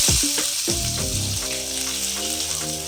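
Big onions hitting hot oil set off a steady, close sizzle that runs the whole time beneath a melodic music track.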